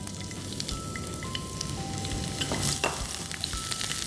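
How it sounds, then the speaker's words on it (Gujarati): Tri-colour capsicum sautéing in heated oil in a pan, a continuous close sizzle with light stirring clicks and a few louder crackles. "બસ એને 1 મિનિટ સોટે કરી લઈશું."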